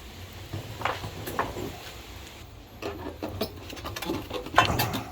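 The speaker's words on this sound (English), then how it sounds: "I can get this tool underneath here right now and just split that rubber with a screwdriver here" A screwdriver scraping and splitting corroded rubber on the outdrive of a Sea Ray 240 with a Mercruiser diesel, heard as low, uneven rubbing and scratching with a few sharper clicks against a steady outdoor background.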